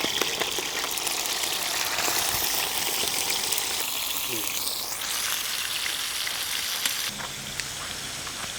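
Lamb meat fries in a little oil for a traditional Irish stew, giving a loud, dense, steady sizzle with occasional stirring scrapes, close and without talk.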